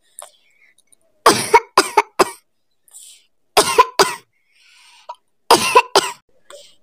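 Animated bird character coughing in a Hindi cartoon, three separate fits of harsh, close coughs in clusters of two to four, with quiet gaps between them.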